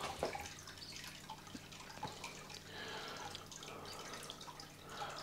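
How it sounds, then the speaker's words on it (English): Water trickles from a canister filter hose into an ordinary bucket, a faint, steady, thin flow with small drips and no one speaking. "One bucket already out, so we already can hear water"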